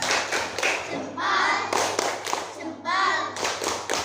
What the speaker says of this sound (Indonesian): Ya sudah, tepuk tangan buat Mbak Novita